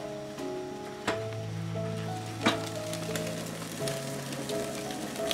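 Steaks sizzle while cooking outdoors on a dragon pot, a steady close frying hiss with a few sharper pops and crackles throughout, no voices.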